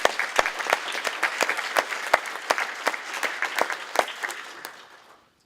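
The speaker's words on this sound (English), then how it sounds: "So please give yourselves a round of applause." Audience applause at a labor organizing presentation, steady clapping from a crowd with sharp individual claps standing out, fading out toward the end.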